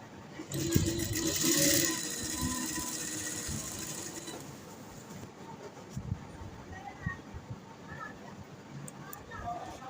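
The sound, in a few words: sewing machine stitching buckram neckline piece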